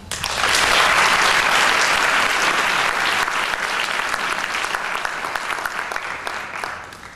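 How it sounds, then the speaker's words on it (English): Loud, sustained applause from an audience fills the room, swelling quickly and then slowly tapering off. "Please join me in applauding Lenore."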